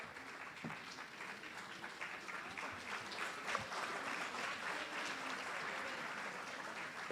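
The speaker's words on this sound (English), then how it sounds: "Can we have a bigger round of applause as they come and receive?" An audience at a Montessori school's annual day claps through a sustained round of applause, a dense, moderately distant patter that keeps an even level throughout.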